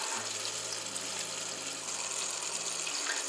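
Plain tap water runs into a pot for cooking beets: a steady, even gush with a low hum underneath, continuous and fairly close.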